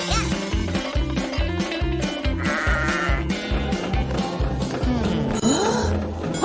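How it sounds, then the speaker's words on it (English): Sheep bleat repeatedly and loudly over a busy rhythmic backing with tapping and other sounds, the calls coming in a steady run throughout. "Huh? Sheep?"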